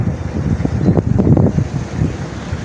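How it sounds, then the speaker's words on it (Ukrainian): Cold wind blows outdoors on an autumn walk, gusting against the microphone in loud, uneven rumbling buffets with no speech. "але вітер дуже холодний"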